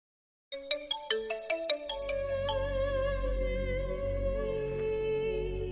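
A phone ringtone plays a repeating melodic tone pattern over and over, loud and close, with no one picking up the call.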